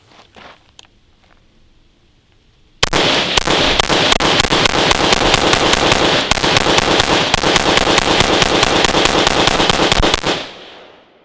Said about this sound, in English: 30 rounds, Fiocchi ammo through the brand new Lancer mag. Let's see how this thing will run.